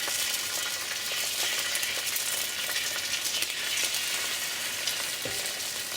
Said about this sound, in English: We're going to put our egg in here.